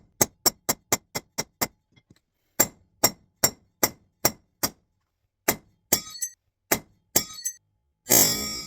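A Kabar knife blade is struck repeatedly against a steel crowbar, producing loud, sharp metallic clanks in quick, evenly spaced runs of strikes separated by short pauses, ending in a harsher, longer crack.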